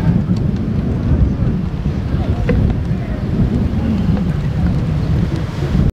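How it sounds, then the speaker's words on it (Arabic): Strong wind buffets the microphone in Tangier near a football pitch, a loud continuous low roar with gusty rumble throughout and no clear pauses. "كاين واحد الريح راه ما يمكنش هنا في طنجه وخصوصا حدا التيران"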